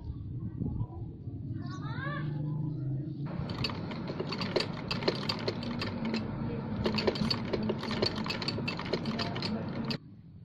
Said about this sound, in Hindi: हम इसको ऊपर नीचे रखकर सिलाई लगा देंगे